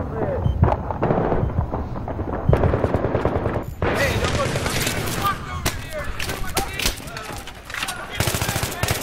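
Video game firefight at the Grand Bazaar map, with rapid bursts of automatic gunfire and a grenade blast, loud and dense throughout as players talk over the shooting.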